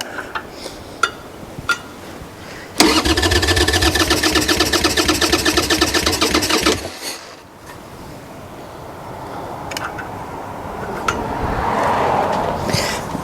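Wrecked Harley Davidson Sportster engine catching and running for a few seconds, a loud, rapid, even chugging that cuts off abruptly, with faint clicks and handling noises before and a soft rising whoosh after.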